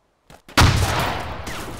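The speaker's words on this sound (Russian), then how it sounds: "Повсюду выстрелы, взрывы." A couple of soft thumps, then a single loud gunshot-like blast in the video game ArmA 2, ringing out and decaying with a lingering rumble.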